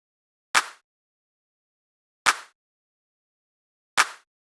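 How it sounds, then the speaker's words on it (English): Three evenly spaced, crisp attack clap hits from a drum sample in a wavy type beat, each short and snappy with a brief tail, played alone against silence. "I have added an attack clap and it sounds something like this."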